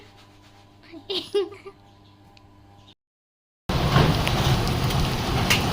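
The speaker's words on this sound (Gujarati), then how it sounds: "ભીમાસરમાં તો ફૂલ વરસાદ ચાલુ થઈ ગયો છે" Heavy rain falls in Bhimasar, Kutch, a dense loud roar of downpour on surfaces that starts abruptly after a quieter stretch with brief talk and a background hum.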